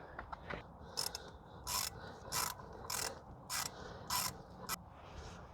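A ratchet clicking in short repeated bursts as it tightens an 11 mm bolt on a Jeep Wrangler JK brake caliper, about six quick, close, evenly spaced strokes with brief pauses between.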